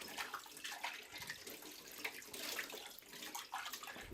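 Water from a community water supply system in a dry area runs steadily from a tap, a continuous splashing hiss at low level with no voices.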